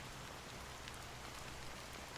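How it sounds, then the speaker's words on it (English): Rain falling in Honkai Star Rail, a dense, even patter of raindrops on surfaces, steady and soft throughout with no voices. "how long has this rain been going on for?"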